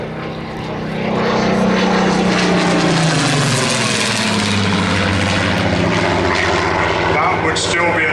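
A propeller photo reconnaissance aircraft flies over the Tank Museum during Tank Fest. Its loud, droning engine swells and shifts in pitch as it passes, with voices faintly underneath.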